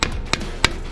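A few hard hammer strikes drive a screwdriver into a stuck oil filter on a 1976 Chevy Nova, three or four close, sharp metallic knocks spaced irregularly.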